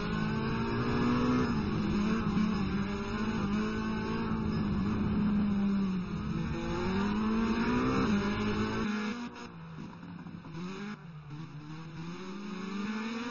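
Race cars in the Race of Champions rev hard off the start and accelerate away, a loud, sustained rising engine whine with gear changes, then fading and squealing drifts, with no talk.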